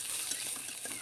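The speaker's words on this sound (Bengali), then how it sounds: "তো প্রথমে আমি তেলের সাথে পেঁয়াজ কুচি, কাঁচামরিচ দিয়ে দিলাম" Chopped onion and green chillies frying in hot oil, a dense, close, steady sizzle with faint stirring taps, heard alone.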